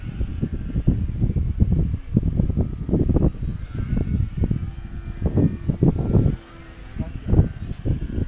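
An RC combat plane flies nearby with a loud buzzing engine that rises and falls in quick pulses as it passes, mixed with wind buffeting.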